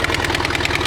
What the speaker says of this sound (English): I'm going to turn it around, see if it holds, and fire the van up, see if it holds pressure.